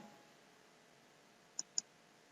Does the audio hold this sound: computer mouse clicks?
yes